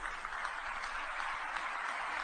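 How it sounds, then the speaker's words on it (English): Steady crowd applause from an audience, a dense continuous wash of many hands clapping at even volume throughout, fairly faint and distant with no one speaking over it. "Oh, they're clapping."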